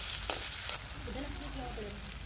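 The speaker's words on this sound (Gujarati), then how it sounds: "આપણે ચમચાની મદદથી સારી રીતે મિક્સ કરી દેવું તેલમાં." Chopped tomato is stirred with a spoon into hot oil with curry leaves for chana masala, giving a steady close sizzle with a couple of soft spoon scrapes near the start.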